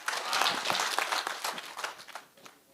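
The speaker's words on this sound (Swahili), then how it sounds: "Muongeze makofi" An audience claps at a public security forum in Nyamira County, with a burst of dense, scattered applause that gradually thins and fades.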